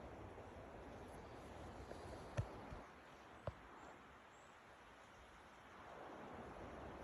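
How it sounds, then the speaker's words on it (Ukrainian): Wind rushes through forest trees in a broad, steady whoosh that dips and swells, with a couple of faint clicks nearby. "Почався вітер, дерева так шумлять."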